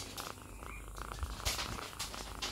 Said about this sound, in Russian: Она громко муркает